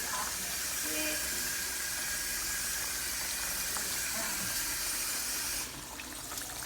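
Tap water runs in a steady, close hiss while a dish is rinsed in a kitchen sink, easing slightly near the end.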